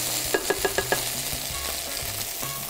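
Tomato paste is stirred into onion in a pan, opening with a quick run of five metallic spoon taps followed by scraping strokes over a soft, steady sizzle, with no speech.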